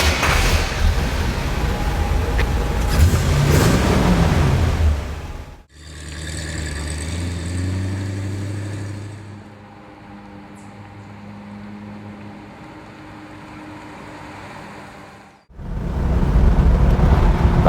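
A 1966 Corvette Stingray coupe V8 rumbles loudly at first, then cuts out and restarts into a deep, lower idle that revs up and settles before another sharp burst of throttle near the end.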